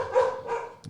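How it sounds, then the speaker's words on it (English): Dogs in a house giving two muffled barks, fairly faint and somewhat distant, with a brief sharper sound at the very end and no talk. "sorry about the dogs barking."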